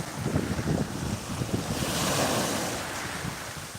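Black Sea surf washing onto the Odesa shore, a steady wind-blown wash of breaking waves close to the microphone with gusty rumble and no voices.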